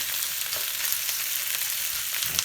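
Longaniza sausage fries in oil in a pan with a continuous dense sizzle and crackle, close and even, with small pops scattered across the whole stretch.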